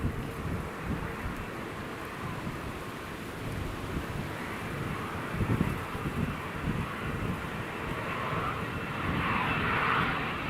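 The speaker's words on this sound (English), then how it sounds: "Here comes the ex-Eastern Airways Embraer 145, all the way from Paris Le Bourget, landing here at Newcastle International Airport." An ex-Eastern Airways Embraer 145 jet lands at Newcastle International Airport, a steady broad engine roar mixed with wind buffeting that grows slightly louder and brighter toward the end.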